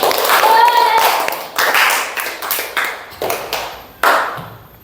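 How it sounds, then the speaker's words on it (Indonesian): Clapping in a classroom-style religious lesson, a burst of claps with children's voices mixed in, then scattered separate claps trailing off near the end. "Tepuk tangan untuk kita semua."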